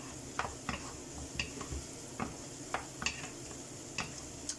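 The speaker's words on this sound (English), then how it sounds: "I'll give this a little stir." A hake and seafood stew is stirred in a single pan under a running extractor fan, with light, sharp clicks of the utensil against the pan at an uneven pace over a low simmer.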